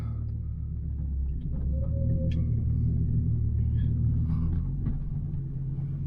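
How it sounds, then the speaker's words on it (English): A 4-wheel drive vehicle in low range strains off-road with its tires spinning, a heavy, continuous low engine rumble that holds close and loud throughout, with faint scraping over it. "Tires just spinning."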